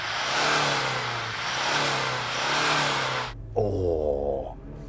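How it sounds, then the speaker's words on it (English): A Toyota Land Cruiser Prado's 2.8-litre four-cylinder turbo diesel revs loudly and steadily up close with a rattly drone, then drops off abruptly before a brief lower, wavering surge. "Let's hear that Toyota turbo diesel. Go on, Toyota, rev up your diesel."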